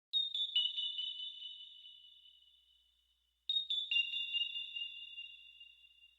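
A high-pitched synth lead from an FL Studio beat plays two long, bright sustained phrases that slowly decay, separated by a brief silence, clean and isolated with no voices.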